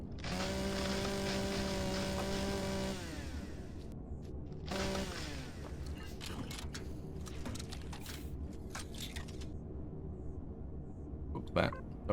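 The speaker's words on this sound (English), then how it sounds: "Chainsaw." A chainsaw in the space-survival game Empyrion Galactic Survival cuts trees. A buzzing motor runs for a few seconds, returns in a short burst, then gives way to quieter scattered clatter.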